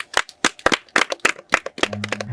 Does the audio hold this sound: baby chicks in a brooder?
no